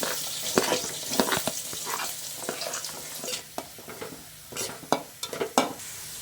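Onions being added to a pan of frying green chillies and garlic, stirred with a spatula; steady close sizzle with repeated sharp scraping strokes, no voices.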